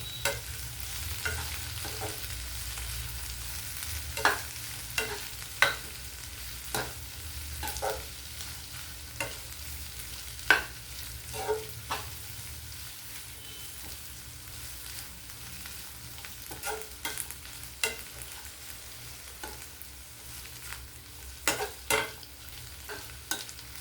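Ivy gourd (dondakaya) fries slowly in a pan under a soft, constant sizzle, while a spatula scrapes and stirs at irregular intervals for about twenty seconds, with no talking.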